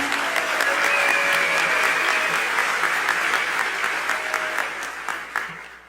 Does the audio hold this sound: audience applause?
yes